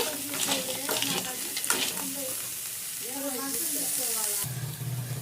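Crabs fry in oil with masala in a village-style pan, giving a steady close sizzle and a stirring scrape under a speaking voice.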